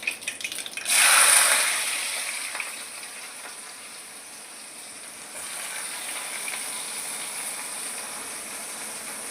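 Two cut onions tumble into a hot pan and burst into a loud hiss, which settles into an even, moderate sizzle as they sauté.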